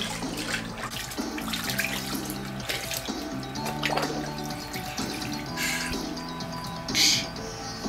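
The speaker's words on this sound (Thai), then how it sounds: "ล้างหน้าเพื่อน" Tap water runs steadily while a face is washed at a sink, with splashing and dripping throughout and a brief louder gush near the end, all fairly close with no speech.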